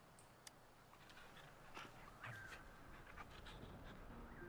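A dog in the Wuthering Waves video game whimpering softly, faint high whines and thin squeaks over a hissy game background, with no speech.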